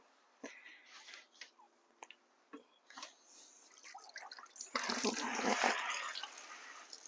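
Water drips from a wet rug hung up to drain, scattered irregular drips that are close and quiet, then a brief steadier trickle and splash near the end.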